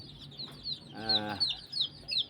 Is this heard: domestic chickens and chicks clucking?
yes